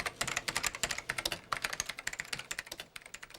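Rapid, uneven clacking of keys on a computer keyboard, continuous and close, with no voices.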